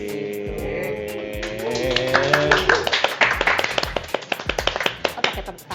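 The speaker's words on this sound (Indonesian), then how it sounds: "Oh pakai tepuk tangan nih." Hand clapping rings out at a coffee business gathering, starting after a brief stretch of voices and building into a run of sharp, quick claps from several people that carries on to the end.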